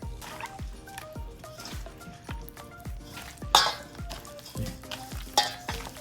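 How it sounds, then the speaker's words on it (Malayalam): Chicken pieces are worked by hand with a marinade and flour, making steady, moist squelching and patting sounds at a regular rhythm, close up, with a few sharper clicks, and no talk. "ഇനി ഇത് നല്ലവണ്ണം കൈകൊണ്ട് മിക്സ് ചെയ്യാം."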